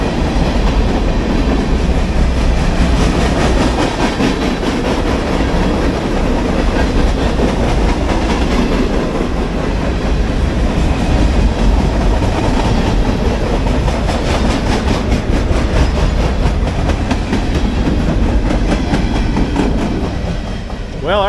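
Train rolling past an abandoned Southern Railway station in Limestone, Tennessee, with the caboose at its end: a loud, continuous rumble and clickety-clack of wheels on track, close by and sustained throughout.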